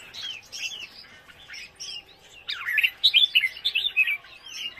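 Red-whiskered bulbul chicks on a bird farm chirp and twitter in quick, high, overlapping calls, sparse at first and then busier and louder, close by with no talk.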